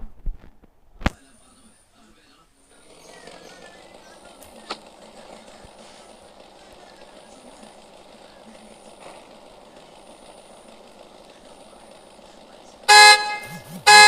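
A battery-powered toy Mustang car with nitros and a race kit starts with clicks, then its motor-sound effect plays as a thin, steady electronic drone. A loud synthetic horn blast follows near the end, then another begins.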